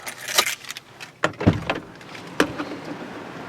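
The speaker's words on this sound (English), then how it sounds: "let me get the keys out here" A bunch of keys jingles and clinks as it is pulled out near a car, in a few short bursts of metallic rattling with small knocks between them, close and fairly clear, without speech.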